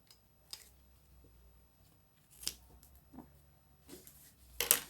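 Fabric scissors snip a zipper close to the cloth while a small handbag is being sewn, a series of quiet, sharp cuts at irregular intervals with soft handling noises between them.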